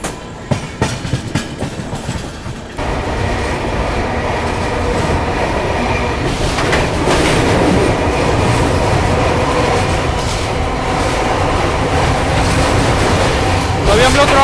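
Vikramshila Express train crossing the Ganga river, a loud continuous rumble of wheels and carriages with rattling clatter, heard from inside as a voice talks over it.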